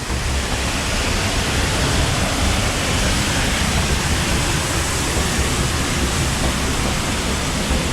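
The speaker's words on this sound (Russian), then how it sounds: "И как раз под водопадом мы сейчас находимся. Смотрите, с потолка капает вода." Düden waterfall in Antalya, Turkey, heard from a cave beneath it, where water drips from the ceiling: a steady, loud, unbroken roar of falling water fills the space with no voices.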